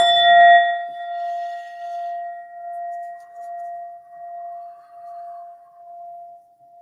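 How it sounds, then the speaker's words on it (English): An Indian metal singing bowl is struck once, then rings with a clear, sustained tone that slowly pulses and fades over several seconds. "such as this beautiful metal bowl that I always show you with the Buddha in the middle"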